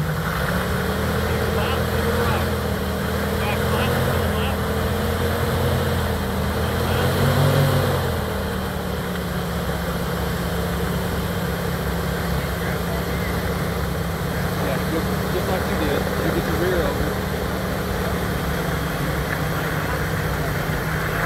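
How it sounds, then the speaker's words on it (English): A Jeep's engine drones steadily off-road at Inks Ranch in Llano, Texas, during a Jeep Jamboree, swelling briefly in a rev midway before settling back into a constant low rumble. "Now just let them spin. Spin your tires. Start spinning your tires."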